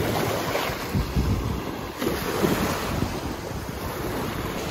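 Surf rolling onto Lido Beach on the Florida Gulf Coast, a steady wash of breaking waves mixed with gusty wind buffeting the microphone, continuous and fairly loud.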